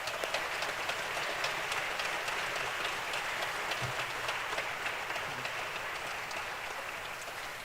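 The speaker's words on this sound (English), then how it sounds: "Let's just give them all a big round of applause." Audience applause in a concert hall after the finals of an international piano competition, a steady, dense wash of many hands clapping that holds at an even level throughout without voices.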